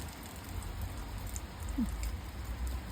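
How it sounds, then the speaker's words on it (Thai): Steady rain falls as an even, continuous hiss with a low rumble underneath, constant and moderately loud, with no voices. "ฝนตก"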